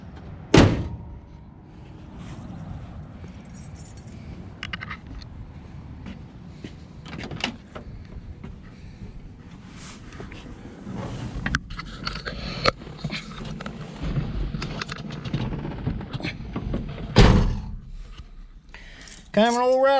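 Someone climbs into a 1966 Dodge Coronet 500. Door clunks, latch clicks and a slam sound close by, with rustling and shuffling between them and a few scattered thumps.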